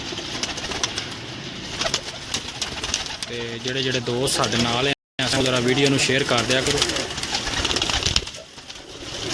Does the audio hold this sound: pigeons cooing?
yes